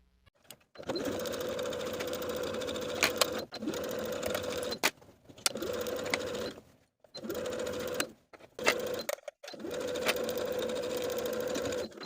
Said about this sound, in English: Then I can sew this seam with a 1/2 inch seam allowance and press the seam toward the waistband.